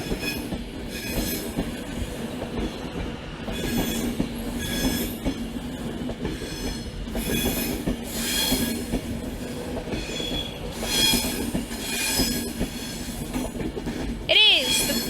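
A Virgin Pendolino class 390 train pulls into a station platform at Manchester Piccadilly, with steady rolling rumble and rail noise throughout, some wheel squeal, and a brief sharp tone near the end.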